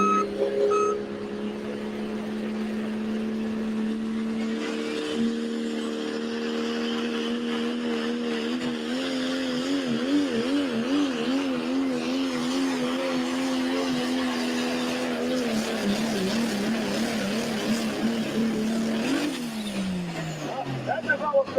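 A pulling tractor roars through a tractor pull run at a Badger State event, its exhaust droning loud and sustained with a wavering pitch that shifts near the end, hinting at a piston problem, while an announcer talks over it.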